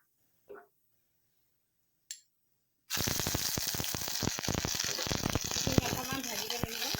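Kalonji and turmeric frying in hot oil for a ginger turmeric fish curry: two quick clinks and then a sudden loud sizzle that stays dense and crackling to the end.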